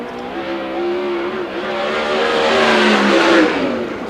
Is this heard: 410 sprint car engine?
yes